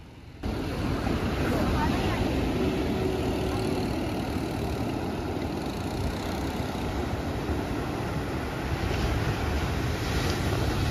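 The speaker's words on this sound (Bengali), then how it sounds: "সমুদ্রের কি তাপ, মানে আওয়াজটা যদি শোনেন আপনারা," Sea waves at Chandrabhaga beach near Puri rumble as a steady broad roar of surf, mixed with heavy wind buffeting the microphone, with a person talking over it.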